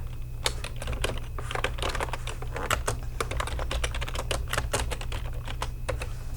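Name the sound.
typing text on a computer keyboard in MS Word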